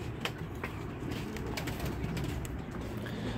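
Soft cooing from a pair of young Basrawi pigeon chicks in a loft, low and continuous under steady background noise, with a few faint clicks.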